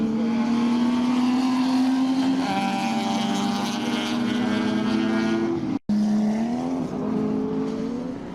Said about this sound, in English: Scott Fleming's on duty in that Volvo just there, running along in the Group A and C